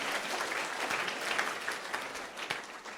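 A room full of students at a memory training session in a wedding hall claps loudly and steadily, a dense, continuous patter of many hands with no gaps.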